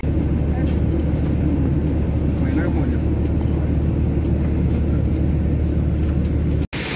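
Steady low engine and ventilation rumble of an airliner at the airport during boarding, continuous and fairly loud throughout, with a brief dropout near the end.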